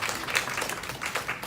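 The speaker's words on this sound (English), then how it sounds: "Round of applause." Short round of audience clapping at a vegan technology panel in a Google community space, moderately loud individual claps blending into a brisk, uneven patter.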